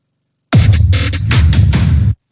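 Drum fills in an FL Studio EDM track: a short, loud burst of punchy drum hits with heavy low end, lasting under two seconds before cutting off.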